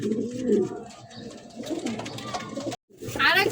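Female pigeons coo in low, throaty bursts close by, with brighter bird calls rising briefly near the end.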